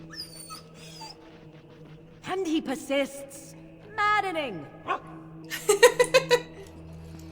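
Dog in Dragon Age: Origins letting out repeated whimpers and high yips in short bursts, with a quick run of hiccup-like yelps near the end, while a voice speaks over the start.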